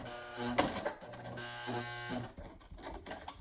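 Sewing machine needle straining through thick layers of mask material, the motor whirring in two labored bursts with strained mechanical knocking, followed by a few clunks as the machine slows and stops.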